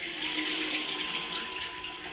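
Shower water rushing through a Xiaomi Youpin shower thermometer, a steady hissing flow with a faint tonal whine, heard close and alone without talk.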